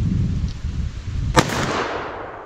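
A single .44 Magnum handgun shot fired single action outdoors: one sharp, loud crack with a rolling echo that fades away, following a stretch of rustling background noise.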